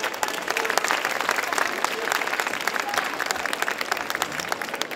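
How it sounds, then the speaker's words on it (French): An audience applauds at a chocolate award ceremony in Paris, a dense, steady wash of clapping from a large crowd that continues evenly throughout, with voices faintly mixed into the clapping. "Avec nos félicitations et vos applaudissements."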